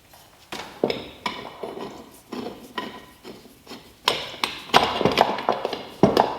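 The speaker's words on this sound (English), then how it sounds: "screw these together" Metal clanks and taps as 3/4 inch pipes and collars are screwed together to build a long clamp for a butcher block workbench, an irregular run of close, ringing knocks and scrapes with no talking.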